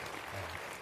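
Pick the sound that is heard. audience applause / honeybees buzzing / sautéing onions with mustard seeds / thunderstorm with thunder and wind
audience applause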